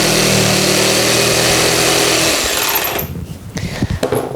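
A power saw cuts cedar boards to length for boxes, giving a loud, close, sustained buzzing whine that cuts off after about three seconds, followed by clattering and knocking of the wood.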